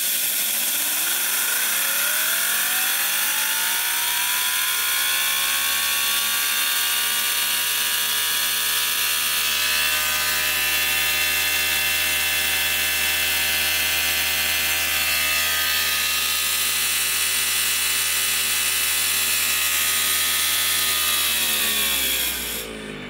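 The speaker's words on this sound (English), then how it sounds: "Not sure if the camera is picking up just how fast that flywheel's spinning, but it's really moving." A homemade steam turbine's flywheel, driven by compressed air, spins fast in a steady high-pitched whine with a layered harmonic hum. It stays loud and even for about twenty seconds, then winds down at the end, with no talking.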